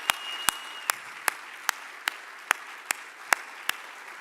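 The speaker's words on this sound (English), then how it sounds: "So please, another round of applause." A small group clapping at a school auction, sparse and distinct, with single loud claps spaced about every half second against a quiet background and a faint steady tone at the start.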